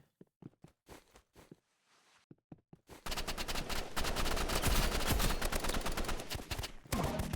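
Submachine gun fire in a video game: sparse footsteps and clicks, then from about three seconds a loud, sustained burst of rapid automatic shots with dense crackling that carries on nearly to the end.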